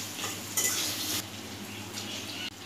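Ginger drops into a pan of frying potatoes for dhokar rosha and gets stirred, bringing a short burst of scraping and clatter over a soft, faint sizzle.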